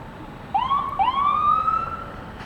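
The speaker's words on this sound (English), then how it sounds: "Another state police car coming after this one here" A police car siren in a parade in Rouses Point sweeps upward twice and then holds a wailing tone, fairly close, over a steady background rumble of street noise.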